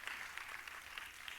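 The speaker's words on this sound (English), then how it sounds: "Yes, you can clap." An audience at a tech conference talk claps in a dense, continuous patter of applause, somewhat distant and fairly soft.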